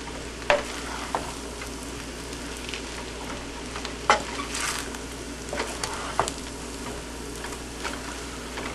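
Fried rice stirred with soy sauce in a hot pan, a steady sizzle throughout with scattered scraping and clacking strokes of the utensil against the pan, close and alone with no talk.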